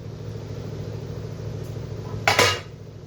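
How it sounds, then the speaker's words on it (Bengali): A lid lifted off a cooking pot of steamed hilsa fish, one brief metallic clatter near the end over a low steady background hum. "তো এখন ঢাকনাটা খুলে তোমাদেরকে দেখাই।"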